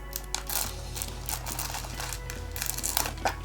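Crinkly plastic cellophane wrap being pulled off a Blu-ray case, with close, continuous rustling and scattered sharper crackles.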